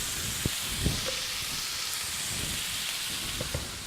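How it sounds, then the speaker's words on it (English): Apples and celery hitting a hot Dutch oven set off a steady, fairly soft sizzle and hiss, with a few brief clatters from the pot and stirring. "Now I'm going to put my apples and celery in here"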